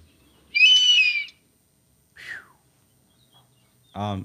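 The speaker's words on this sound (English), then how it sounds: "Oh, it's a seagull." A seagull-type bird call played as a guess-the-animal quiz sound: a loud drawn-out shrill cry, then a shorter descending squawk, then a brief harsh burst at the end, with quiet gaps between.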